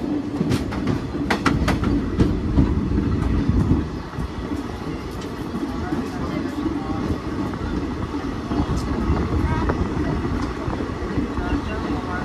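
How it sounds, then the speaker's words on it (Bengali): Kaviguru Express passenger train pulling into Rampurhat Junction, a loud continuous rumble of wheels on rails with clattering and sharp metallic clicks, easing slightly after a few seconds and then rolling on steadily. "দেরি করে আমাদের ট্রেন এখন এসে পৌঁছেছে রামপুরহাট জংশন"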